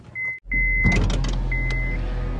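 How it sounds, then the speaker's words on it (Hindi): An electric power window motor whirs in a steady tone, breaks off, then runs again before a car engine starts, with a broad engine rumble that stays steady on a calm early morning. "और करते हैं गाड़ी को स्टार्ट"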